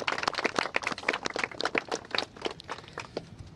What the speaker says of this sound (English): Let's just give a round of applause for all the courage and strength that the survivors have shown